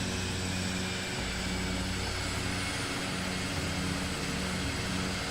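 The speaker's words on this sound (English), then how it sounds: "You can hear the Vision Jet really well now." Steady engine drone from a Vision Jet single-engine personal jet in a flight simulator, a continuous broadband roar with a low hum, loud and unchanging throughout with no talking.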